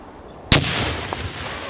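A hand grenade explodes during Marine training: a single sharp, loud blast that breaks out of a quiet outdoor background and rolls away in a long decaying rumble, with no talk.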